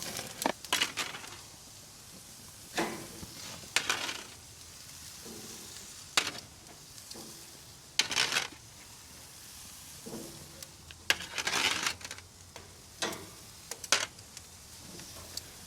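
Tomatillos and other vegetables sizzle and roast in a pan for hot sauce, with a steady low frying hiss broken by repeated sharp bursts and clicks as the pieces are set down and moved.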